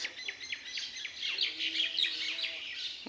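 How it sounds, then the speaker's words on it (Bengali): Several small birds chirping and twittering together at dawn in quick, overlapping calls, moderately close, with no voices, in a village under a cloudy sky. "কাক ডাকা ভোরে পাখিদের কিচিরমিচির শব্দ"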